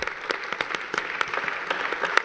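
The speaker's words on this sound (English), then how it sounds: "Let's give a big round of applause to our panel members." Conference audience applauding panel members, a moderate steady patter of many hands with individual claps standing out, no talk.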